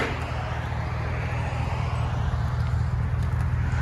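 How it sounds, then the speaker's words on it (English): A Lexus GX470 with a muffler delete puts out a steady, close low exhaust drone at idle, constant throughout, with no talk. "LEXUS GX470. What do you guys think? Muffler delete."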